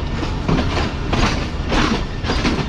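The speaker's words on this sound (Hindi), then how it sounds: "मेन लाइन को छोड़ रही है ट्रेन।" Karakoram Express train switching from the main line onto a branch line, wheels beating a steady, loud clickety-clack over the track joints, close and continuous with no voices.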